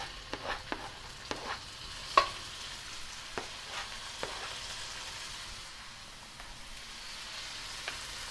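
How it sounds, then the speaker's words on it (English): Chicken pieces sizzle softly in a hot pan of melted fat, with scattered clicks and scrapes of stirring over the steady frying hiss. "And then just mix that in and start it frying."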